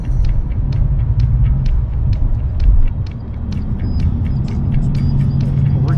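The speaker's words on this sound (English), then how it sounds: "Let's go ahead and get to driving into Midtown." Steady low engine rumble of a car driving along a city road toward Midtown, heard from inside the vehicle, continuous and fairly loud with faint higher clicks and road noise.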